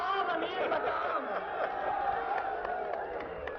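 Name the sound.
rally crowd chanting slogans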